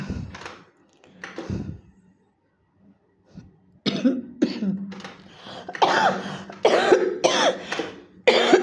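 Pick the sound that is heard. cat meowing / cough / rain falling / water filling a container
cough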